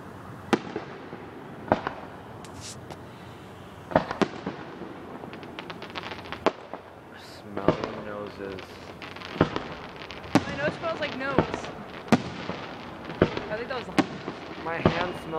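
Fireworks at Cascade Locks burst in a series of sharp, loud booms spaced a second or two apart, some followed by crackling, with people talking and reacting between the explosions.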